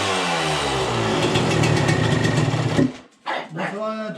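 Small motorbike engine idling with a steady buzzing drone and slight rev rise, close, then cutting out abruptly as a voice speaks.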